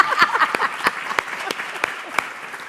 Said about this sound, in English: I guess we'll give ourselves a round of applause.